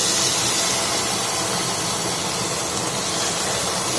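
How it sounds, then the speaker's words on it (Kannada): Mushrooms fry with garam masala in a pan, giving a loud, dense, continuous sizzle and hiss that holds steady throughout without any talk. "ಸೊ ಈಗ ಇದಕ್ಕೆ ಸ್ವಲ್ಪ ಗರಂ ಮಸಾಲ ಹಾಕಿ ಫ್ರೈ ಮಾಡಿ"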